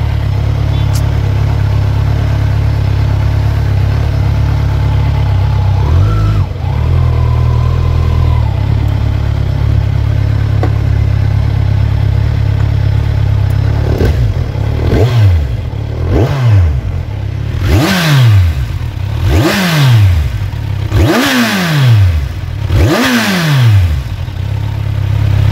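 Kawasaki Z1000 motorcycle engine idling low, then blipped through a series of sharp revs reaching about 8,000 RPM, each rise and fall distinct, close and loud with no talk.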